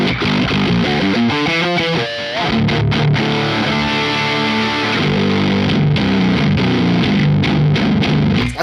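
An electric guitar on a pedalboard rig plays with heavy distortion bordering on fuzz, with a quick run of notes followed by ringing, gritty sustained chords and a few sharp muted stabs, loud and close with no talking.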